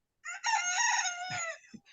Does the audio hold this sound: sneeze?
no